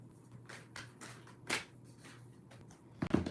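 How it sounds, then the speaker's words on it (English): A tarot deck is shuffled by hand in a quiet room, with a few soft riffles and a sharper burst midway, then a firm tap of the cards at the end. "Two more shuffles for Pisces."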